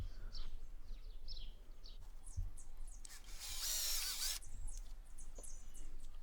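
A power driver whirs in a short burst as a screw is driven into a pallet-wood fence rail on a treated garden post, with birds chirping faintly around it outdoors.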